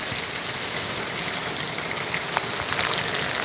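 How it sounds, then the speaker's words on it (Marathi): Heavy monsoon rain pours down in Mumbai, a dense, steady roar of water hissing and spattering on surfaces close by, unbroken throughout. "जोरात आला पाऊस"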